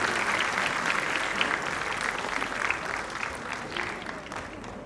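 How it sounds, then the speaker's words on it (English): Audience at a school annual day celebration applauds warmly, dense continuous clapping from a large crowd filling the hall for several seconds. "Please give a huge round of applause."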